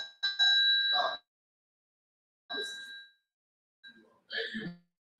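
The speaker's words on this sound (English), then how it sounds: "You make sure they hear that bell, don't they?" A bell rings out in short bright bursts during a press meeting in Harvey, three separate rings with silence between them, the first the longest and loudest, sounding close.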